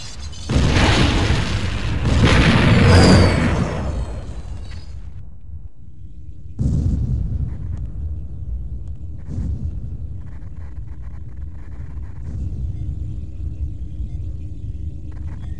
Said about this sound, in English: The temple's been blown all to hell.